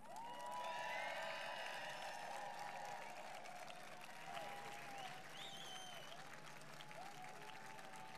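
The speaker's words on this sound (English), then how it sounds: "And you can clap for your children." At an undergraduate graduation ceremony, parents and relatives in a large crowd give steady, sustained applause, with scattered cheers rising above the clapping.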